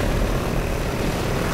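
Attack helicopters in the video game Call of Duty: Ghosts roar as a loud, dense, continuous rotor and engine wash with no pauses and no voices over it.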